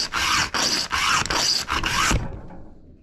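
A hand file rasps across a chainsaw chain during sharpening, five firm back-and-forth strokes in a quick even rhythm, close and loud, ending in a sudden stop and silence.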